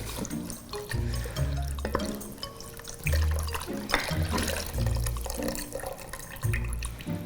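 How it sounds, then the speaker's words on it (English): Broth for spicy miso ramen pouring and splashing into a pot in a steady liquid stream with some stirring, continuous and close, with no talking. "we're just gonna continue to stir and add in the remaining 3 cups of broth"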